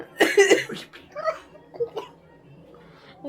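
A harsh cough bursts out close by, followed by several smaller throaty sounds and short coughs.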